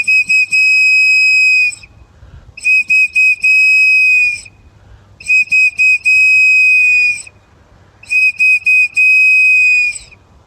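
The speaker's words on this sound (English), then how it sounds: "Blow the sound the eagle bone whistle 4 times." An eagle bone whistle at a Día de los Muertos worship service sounds in four loud, shrill bursts, each built from several quick piercing blasts, separated by short pauses.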